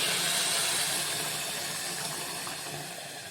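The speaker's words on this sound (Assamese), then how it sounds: "এতিয়া মই পানী দিম আৰু এই পানী গৰম কৰি ৰাখিছোঁ" Hot boiling water poured onto rice frying in a pan for pulao, a loud steady steam hiss that slowly fades toward the end.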